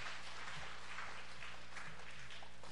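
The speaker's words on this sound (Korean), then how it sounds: "박수하겠습니다." Quiet applause from a small church congregation of around forty, a distant, muffled patter of clapping heard through a low-quality recording with a steady hum underneath.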